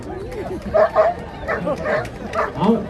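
A police drug detection dog at a dog show in Belagavi gives short yips, whimpers and barks nearby, mixed with people talking around it.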